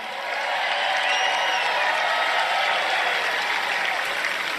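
A large crowd at a speech cheers and claps in a steady, loud roar that swells quickly and holds without a break.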